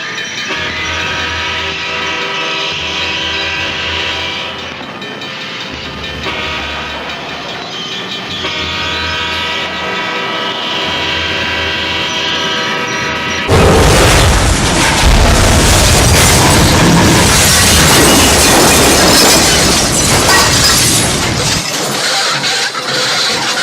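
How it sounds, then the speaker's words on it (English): A CSX intermodal train with four locomotives strikes a truck and derails, a loud continuous rumble with horn tones, then a sudden harsh crashing roar of grinding and impact that persists. "The CSX intermodal train crashed into the truck, causing all 4 locomotives and several intermodal cars to come off the tracks."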